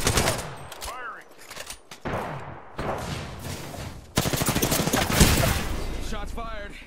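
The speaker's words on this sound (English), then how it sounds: "Shots fired, and they're hitting me." Rapid bursts of video game gunshots ring out steadily, growing louder and denser toward the end, with a voice speaking between and over the firing.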